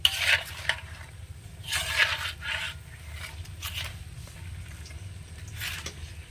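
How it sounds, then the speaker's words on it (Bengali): Goja pastries being stirred in a pan of sugar syrup: several scraping, clattering strokes close by with a light sizzle underneath, no talking. "দিয়ে ভালো করে নেড়ে চেড়ে দেবো।"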